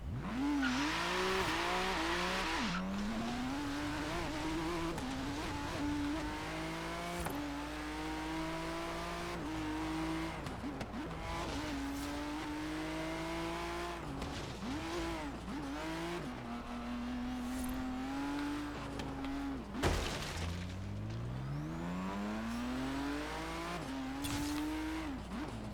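A car driven in the Forza Horizon 3 video game, Australian outback setting: engine revs climbing and dropping through repeated gear shifts, with tire squeal and skidding, loud and continuous throughout.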